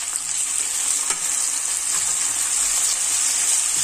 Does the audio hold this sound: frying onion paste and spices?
yes